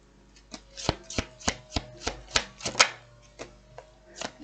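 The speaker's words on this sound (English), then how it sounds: "One more shuffle round for Pisces." Tarot cards being shuffled by hand, giving a regular series of close, crisp slaps and riffles about every third of a second, with no talking.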